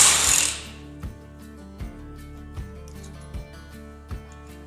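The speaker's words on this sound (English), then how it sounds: "Let's see how bad this half-inch drive Milwaukee impact gun is." A half-inch drive Milwaukee impact gun removes front axle bolts on an F450/550: one loud sustained burst, then a string of short, evenly spaced clacks in a quiet garage.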